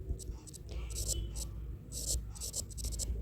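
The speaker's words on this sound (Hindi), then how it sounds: "मैं लिख देती हूँ" Pen scratching across paper in short bursts of writing, with someone speaking over the strokes in a quiet room.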